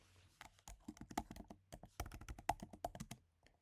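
Rapid typing on a computer keyboard, close and clear, with irregular bursts of keystrokes and a few short pauses, no speech.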